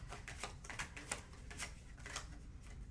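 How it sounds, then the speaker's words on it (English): Tarot cards being shuffled by hand: a quiet, close run of soft riffling flicks and papery taps in an uneven rhythm over a low background hum, with no voice. "I'm going to shuffle and just see."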